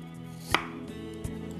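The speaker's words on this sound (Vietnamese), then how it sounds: "Bây giờ mình cắt ra, mình cắt mỏng mỏng thôi," A knife slicing carrot into thin pieces for soup, giving a couple of sharp, close cuts on a board against a low background hum.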